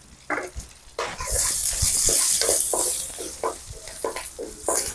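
Curry leaves and asafoetida sputter in hot oil for a tempering, bursting into a loud crackling sizzle after a quieter start, with intermittent stirring knocks and spits throughout.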